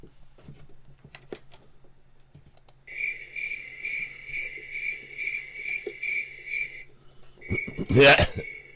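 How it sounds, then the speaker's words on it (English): Crickets chirp in a steady, pulsing trill that holds for several seconds over a quiet background, ending with a short burst of louder noise. "You can hear the crickets."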